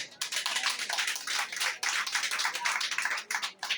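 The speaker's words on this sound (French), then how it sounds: "Je demande à l'assistance d'applaudir chaudement ces deux personnages suivants." An audience at a Christian mixed school graduation ceremony in Moca claps warmly, a dense run of close, crisp applause that continues throughout with slight swells and dips.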